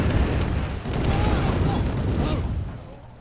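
Gunfire in the Men of War: Assault Squad 2 video game, a dense burst of loud, rapid shots and impacts that rolls on for a few seconds before thinning out.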